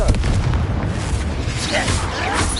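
Confringo blasting spell explosions in a video game, loud, deep booming blasts packed closely together in a dense, continuous rumble.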